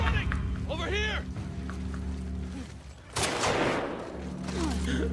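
Video game gunfire heard as a quick burst of sharp shots in the middle, set against steady engine-like game noise, with players talking excitedly throughout.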